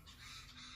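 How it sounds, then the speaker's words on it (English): Birds calling outdoors near a van on a walk in nice weather, a steady faint honking chorus like geese or fowl that fills the whole short clip with no talking. "These birds keep making so much noise."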